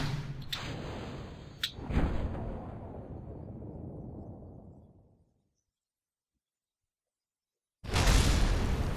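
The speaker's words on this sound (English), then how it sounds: "Some nice explosions, though." Rocket explosions in Kerbal Space Program: two sharp bangs burst over a roaring blast that slowly fades into silence, then another loud rumbling blast starts abruptly near the end.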